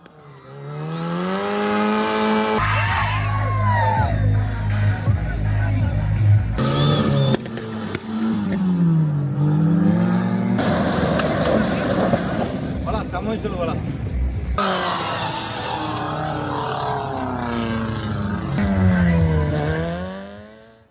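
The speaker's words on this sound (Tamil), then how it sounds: "முதற்கட்டமாக கல்லூரி மைதானத்தில் கார் சாகசம் நடைபெற்ற நிலையில் பயிற்சி பெற்ற ஓட்டுநர்கள் கார்களில் வட்டமடித்தும் பல்வேறு ஸ்டண்டுகளை செய்தும் அசத்தினர்" Stunt cars skid and circle on a college ground, engines revving and rising and falling in pitch with bursts of tire noise, loud and continuous beneath a voice talking throughout.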